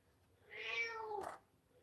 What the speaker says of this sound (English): if my cat doesn't be quiet